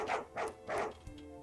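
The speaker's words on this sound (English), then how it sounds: "That's a dog!" A dog barks three times in quick succession, fairly close, followed by a softer short yip.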